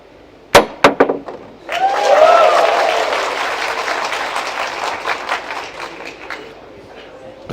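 At a Predator WPA Men's 10-Ball World Championship pool match, a few sharp clacks of balls are followed by a crowd bursting into loud cheering and sustained applause that slowly fades, with voices in the mix.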